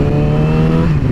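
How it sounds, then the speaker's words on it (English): A Yamaha R6 sport motorcycle's aftermarket exhaust holds a steady, deep idle rumble, loud and close, with a faint rise in pitch near the end. "this exhaust is really not that bad. It's not super droney or anything like that"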